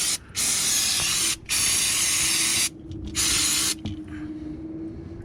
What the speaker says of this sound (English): We're gonna spray this with some brake cleaner or parts cleaner.